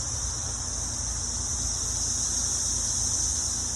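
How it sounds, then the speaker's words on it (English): Cicadas buzz in spring in a steady, shrill, continuous drone from a dense chorus of insects, loud and unbroken from start to end, with no talking. "Cicada season."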